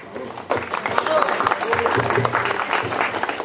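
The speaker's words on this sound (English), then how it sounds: "she just definitely deserves a warm round of applause" An audience claps warmly at an evening launch reception, the clapping rising sharply after a brief quieter start and continuing as a steady round, with some voices murmuring underneath.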